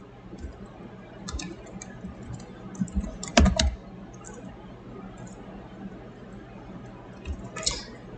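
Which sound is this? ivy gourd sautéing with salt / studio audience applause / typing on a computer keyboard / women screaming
typing on a computer keyboard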